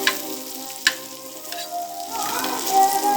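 Tomatoes frying in a pan, giving a continuous close sizzle with a sharp clack of the utensil early on and stirring that swells toward the end.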